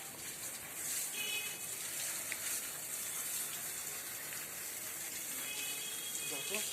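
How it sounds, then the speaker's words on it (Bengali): Water sprayed over rose plants in a rooftop garden at midday, a steady soft hiss and patter of spray running continuously at moderate, fairly faint level. "গাছগুলিতে স্নান করানোর কাজ চলছে।"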